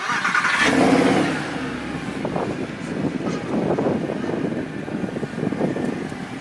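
A Mercedes SLS AMG engine cranks and catches, then settles into a rough, throbbing idle with low rumbling pulses, fairly close and steady.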